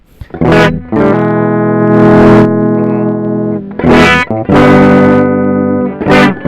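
Electric guitar run through a Tech21 SansAmp TRI-A.C. with distortion and high gain, playing loud, sustained overdriven chords in short bursts separated by brief pick attacks and pauses, with no voices.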